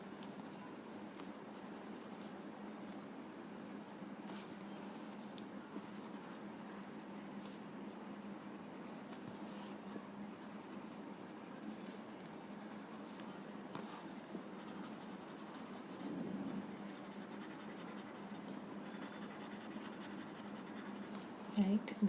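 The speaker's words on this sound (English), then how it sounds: "just add some graphite on these lines and you're sorted" A graphite pencil shades lines on paper with a continuous quiet scratchy rasp. Steady strokes run close to the mic throughout at low volume, with no voices.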